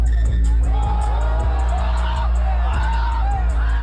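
Loud concert crowd at a show, cheering and shouting over pounding bass-heavy music with rhythmic thumps, a packed live venue heard from within the audience.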